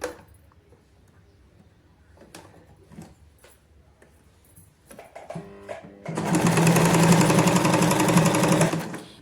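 Sewing machine stitching the folded hem of a palazzo trouser: quiet handling clicks and fabric rustles first, then a short start and a loud, steady, rapid motor whir of continuous stitching near the end.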